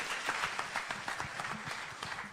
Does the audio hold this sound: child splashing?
no